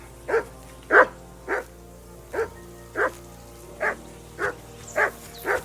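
A dog in Kingdom Come Deliverance II barks steadily at a riverbank camp, with about nine evenly spaced barks over several seconds. Each bark is moderately loud and fairly close, and there is no talking.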